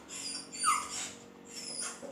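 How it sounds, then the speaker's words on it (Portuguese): Dogs whimper and cry in thin, high, whining yelps, a couple of plaintive bursts rising and falling against a quiet background hum, played back at moderate volume. "Ela viu os cachorrinhos chorando"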